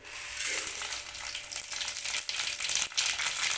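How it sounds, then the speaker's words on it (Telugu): Mustard seeds, cumin, chana dal and urad dal hit hot oil for upma, setting off a loud, dense, steady sizzle and crackle with a few sharper pops near the end. "ఇప్పుడు నూనె కాగింది కదా, ఇప్పుడు మనము తర్వాత గింజలు వేస్తున్నాం. ఆవాలు, జీలకర్ర, శనగపప్పు, మినపప్పు."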